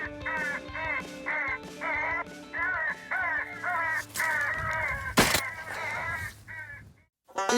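Recorded crow caws are played back as a lure during a winter hunt, with repeated harsh calls in bursts, a loud crack midway and a brief gap near the end.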